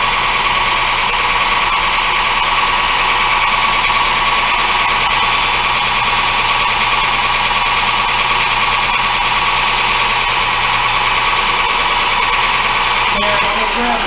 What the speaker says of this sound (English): We're going to face it.